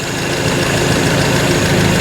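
A Datsun 620 pickup truck's engine idles with a loud, steady, slightly rough mechanical thrum, close up and unbroken throughout.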